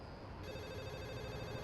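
A telephone rings steadily in a drama scene set around a call to a minister's office, a continuous electronic ringing tone holding at moderate level throughout with no talk over it.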